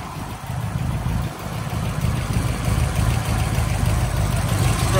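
A 1969 Chevrolet Camaro Z/28 with numbers-matching engine and factory exhaust manifolds idles smoothly, a steady low rumble heard up close with no talking.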